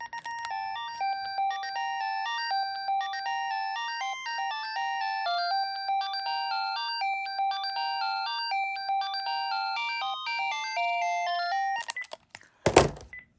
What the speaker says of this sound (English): Let's actually take a listen to that caller IQ tone and what the caller IQ stuff says on here.